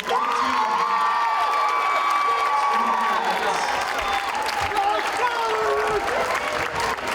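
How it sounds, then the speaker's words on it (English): A school crowd at a high school athletic signing day applauds and cheers, with whoops and children's shouts over the clapping, while music or a voice carries on underneath; the noise holds loud for several seconds. "One more big, huge round of applause, ladies and gentlemen."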